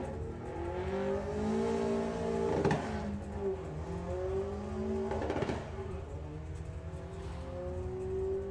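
A Volkswagen Beetle on a drag racing run at Santa Pod Raceway during a Bug Jam event, its engine revving and shifting through rising pitch sweeps at moderate distance, with crowd and track ambience behind.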